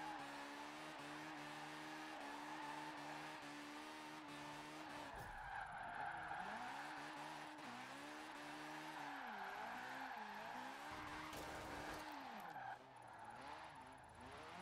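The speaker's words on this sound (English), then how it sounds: "Heavy drift." Forza Horizon 4 car drifting in a Mazda RX7 or Nissan S14 build, engine revving up and down in wavering tones beneath continuous tire squeal and skidding, with sharp shifts in pitch as the drift changes, no talking.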